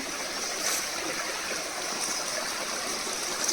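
Water from a stepwell in a Himachal village runs across a muddy road in a continuous rushing stream, a steady, close, broadband wash with no voices over it.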